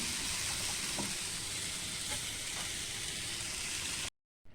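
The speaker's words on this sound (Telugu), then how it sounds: "ఇప్పుడు కొంచెం ఆయిల్ వేసుకొని మినప్పప్పు, ఆవాలు, ఎండుమిరపకాయలు, కరివేపాకు వేసాను" Urad dal, mustard seeds, dried red chilies and curry leaves sizzle steadily in hot oil, a dense continuous crackle that runs for about four seconds before cutting to silence.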